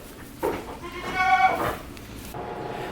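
A goat in a newly built pen bleats once in a clear, wavering call at close range, with quiet barn ambience before and after.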